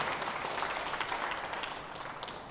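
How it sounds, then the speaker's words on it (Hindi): An audience applauds at a Christian sermon gathering, a steady dense patter of many hands clapping throughout, moderately loud and without talk over it. "ताली देते हैं कि नहीं?"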